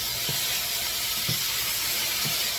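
A steady sizzling hiss of ingredients stir frying in a wok for mango spicy chicken, continuous and fairly loud, with a few soft low thumps of stirring spaced about a second apart.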